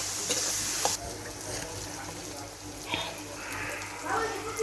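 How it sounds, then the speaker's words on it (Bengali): Dried fish being fried with onions in a pan at home, a soft continuous sizzle with stirring scrapes and a few sharper clatters, fairly close, with faint background noise. "তো শুটকিগুলো হলো পেঁয়াজের সাথে একটু ভাজে নিচ্ছে মা।"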